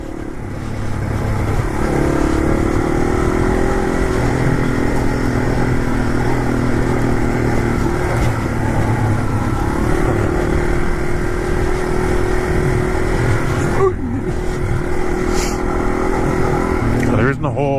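An old Yamaha TW motorcycle with little suspension travel drones along on flat ground, its engine note steady and close with wind rush throughout, and a brief clattering jolt near the end.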